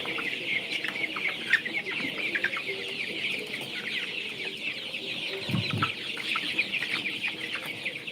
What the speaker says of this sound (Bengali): এ হচ্ছে আমার কালারবাট মুরগি